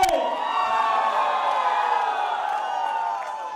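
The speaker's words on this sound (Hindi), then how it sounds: "सब लोग जरा शोर मचा के दिखाइए, चिल्ला के।" A large crowd at a celebration event cheers, whoops and shouts loudly and continuously, a sustained roar of many voices that fades slightly at the end.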